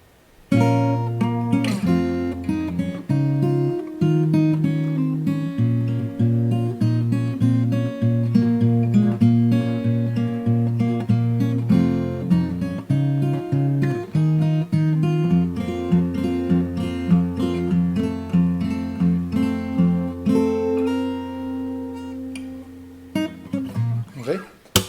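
Percussive fingerstyle acoustic guitar plays the chorus of a song, strummed chords with slapped body hits keeping a steady driving rhythm, close and loud, heard alone.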